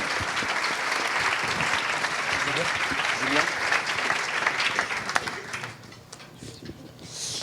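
Audience applause for a political guest after his conference talk, dense steady clapping throughout that thins and fades toward the end.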